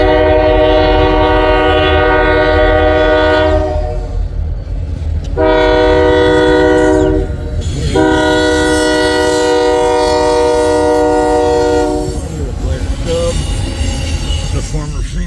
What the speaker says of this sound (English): It's our second eastbound today, and it is a loaded coal drag.